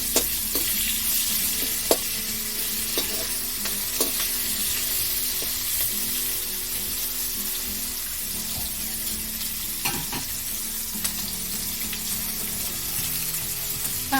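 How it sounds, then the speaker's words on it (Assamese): Chopped onions frying in hot oil for an Assamese prawn curry, a steady close sizzle with occasional stirring clicks and scrapes, no talking. "অলপ ভাজি ল'ব লাগিব।"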